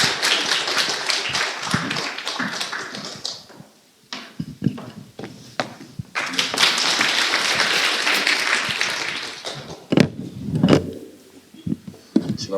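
A lecture audience claps to welcome a speaker, with two bursts of dense, fairly loud applause separated by a short lull and some scattered individual claps.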